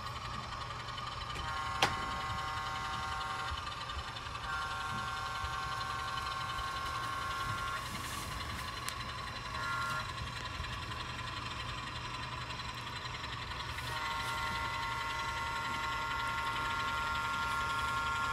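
A small industrial railroad locomotive engine runs at a low, steady idle-like hum at moderate distance, faint and continuous, with a brief sharp click near the start and no talking.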